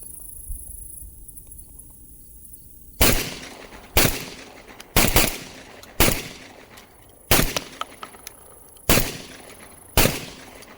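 Beretta A300 semi-automatic shotgun firing outdoors: eight loud, sharp blasts spaced about a second apart, each followed by a brief decaying echo, with insects chirping faintly in the quiet before the first shot.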